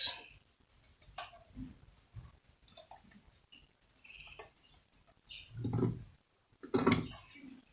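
Scissors snip through fabric while cutting out pieces for a baby frock, giving a series of close, crisp clicking cuts in irregular bursts, with a couple of heavier louder snips near the end.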